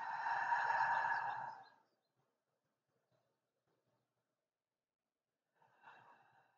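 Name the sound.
exhaling breath during Pilates breathing exercise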